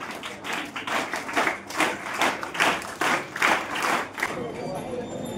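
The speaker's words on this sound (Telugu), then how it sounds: "మీరందరూ ఆడియన్స్ చప్పట్లు బాగొట్టాలి అమ్మాయిలకు, బాగా ఎంకరేజ్ వస్తుంది" An audience at a Ramayana quiz held for Sri Rama Navami claps for the contestants in a steady round of applause that swells and fades in rhythmic waves.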